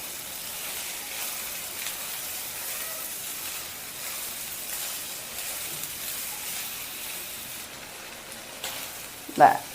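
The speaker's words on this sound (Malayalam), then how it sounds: "ഇതിലേക്ക് നമ്മൾ കുറച്ച് തേങ്ങ കൂടെ ചേർത്ത് കൊടുക്കാം മിക്സ് ചെയ്തെടുക്കാം" Grated coconut is mixed into a banana flambé dessert frying in a pan, giving a soft, even sizzle and hiss throughout with faint stirring, then a brief louder clatter near the end.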